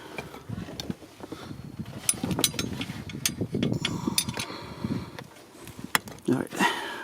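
13 mm wrench loosening a bolt on a 2017 Dodge Ram 1500 during serpentine belt replacement, with metallic clicks and ratcheting scrapes mixed with clanks and handling noise, close up, while people talk at times.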